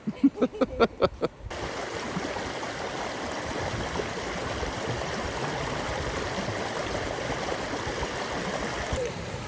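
Water runs steadily along a creek bed on a hike through private property, a constant rushing flow close by. A few rhythmic thumps come first, then the flowing water carries on alone.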